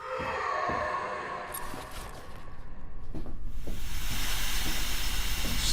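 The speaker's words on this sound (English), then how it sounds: "Steam." Steam hisses in the sci-fi survival horror game Syndrome, a broad rushing hiss that starts softer, dips briefly and then swells into a loud, sustained release with faint clanks beneath.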